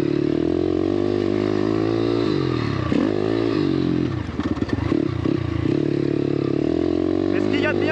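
YCF Bigy pit bike fitted with a 10-inch wheel, its engine droning steadily up close with a brief dip and clatter midway as it rides on.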